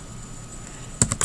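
A few quick computer keyboard keystrokes land near the end after a quiet room hum, three close, crisp clicks in an uneven rhythm.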